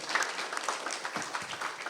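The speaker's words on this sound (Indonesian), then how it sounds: "tepuk tangan buat Dr. Usmar Ismail." Continuous clapping from an audience, an even, dense patter of applause at moderate volume with a few voices faintly beneath.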